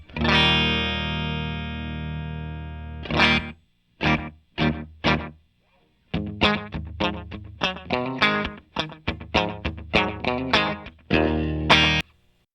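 Electric guitar played through a Boss RE-202 Space Echo pedal set for slapback echo with no reverb: a long ringing chord, then a run of sharp picked notes and short chords, each trailed by a quick close repeat, with no talking.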